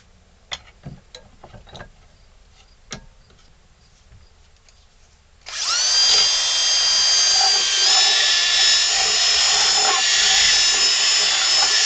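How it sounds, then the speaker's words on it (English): A power drill boring into wood whines steadily and loudly for several seconds after some light clicks and taps, its pitch shifting slightly as it works. "I'm going to use a drill just to get some of that out of the way."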